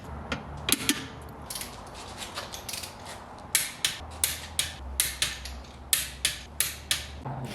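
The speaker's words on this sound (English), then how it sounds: "I'm going to torque this lower bolt and nut to 101 foot-pounds." A torque wrench ratchets on a lower rear suspension bolt and nut of a 1988 Toyota Supra, giving close, crisp repeated clicks, sparse at first and then a steady run of regular ratchet strokes.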